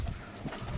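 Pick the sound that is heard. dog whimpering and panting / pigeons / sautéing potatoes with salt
pigeons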